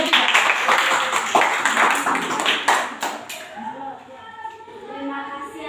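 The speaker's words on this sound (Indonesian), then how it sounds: "Tepuk tangan dulu untuk kelompok 3." A classroom group claps for a presenting team during an academic coaching session, dense applause lasting about three seconds, then fading out as a voice begins speaking.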